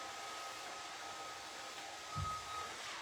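A blow dryer hums steadily at a distance in a house, a faint continuous whine with a brief low bump near the end.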